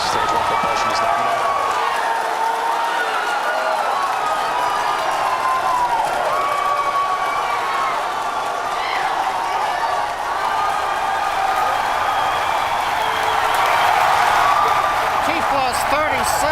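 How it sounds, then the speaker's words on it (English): A large crowd cheers and shouts continuously at the Falcon Heavy test flight launch in 2018, a loud, sustained roar of many voices with whistles rising and falling, over an amplified announcer. "if you can hear me over the cheering"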